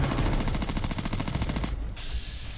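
Rapid automatic fire from an NIArms HK416 rifle in Fallout 4, a loud sustained burst of evenly spaced shots that cuts off abruptly, leaving a brief ringing tail.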